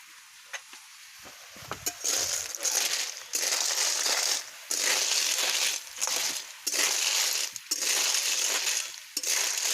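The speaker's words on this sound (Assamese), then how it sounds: "এয়া এনেকৈ লৰাই থকা হৈছে শামুকবোৰ।" Snails in their shells are stirred in a pan as they dry-fry, giving repeated bursts of rattling, scraping clatter separated by short pauses, loud and close with no talk.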